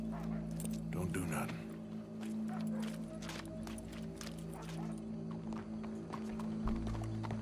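Horse hooves clip-clop in the video game Red Dead Redemption 2, with a horse's whinny near the start, set over steady low ambient hum while voices talk quietly.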